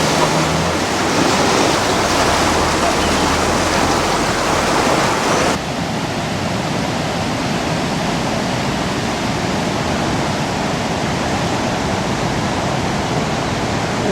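Floodwater rushing under the concrete Water Street Bridge in Newmarket, New Hampshire during a great flood, a steady broadband roar that stays loud and continuous throughout, with the surge swelling slightly heavier in the opening seconds.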